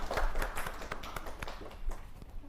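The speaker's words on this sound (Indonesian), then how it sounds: "Kita beri tepuk tangan untuk kelompok 3" A class applauds group 3 after a biology microteaching presentation, with a short stretch of scattered claps and taps over low room noise.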